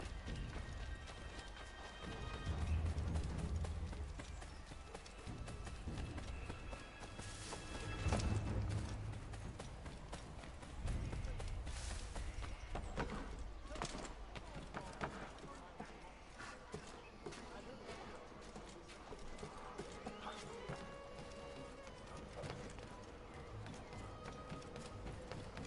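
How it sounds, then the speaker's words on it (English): Horse hooves clip-clopping in the video game Assassin's Creed III Remastered, a run of quick rhythmic hoofbeats with occasional louder thumps and snorts, steady throughout. "I just want my horse."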